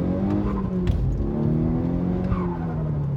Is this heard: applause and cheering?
no